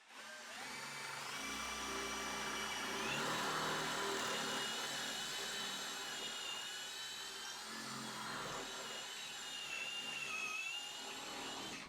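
A Bosch 12V drill bores into brick with a loud, steady whining motor drone that shifts slightly in pitch as the bit works, running for about twelve seconds without speech.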